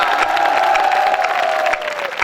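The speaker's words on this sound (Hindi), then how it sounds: "ताली बजाइए।" Audience at a 2015 night kavi sammelan poetry recital at the Swami Keshvanand educational institution bursts into dense clapping and cheering, with a sustained whistle-like tone gliding over the crowd noise throughout.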